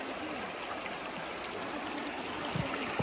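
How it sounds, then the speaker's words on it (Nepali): A muddy stream flowing steadily with a continuous broadband rush of water, close and even throughout, with no voices. "खोला सोसाइरहेको छ"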